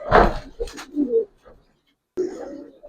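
Giribaz pigeons coo in short soft bursts close by, a couple of calls, then a pause and another murmur, with a voice faintly in the background.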